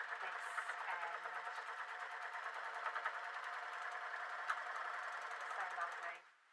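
A sewing machine stitches a blouse seam in a rapid, even mechanical whir for about six seconds before stopping abruptly, heard close and fairly quiet.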